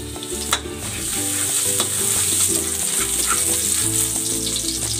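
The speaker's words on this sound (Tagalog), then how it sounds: "Igigisa ko na tong bawang." Garlic sautéing in cooking oil in a pan for beef kare-kare, giving a close, steady sizzle with faint hum underneath and a few soft knocks from the utensil.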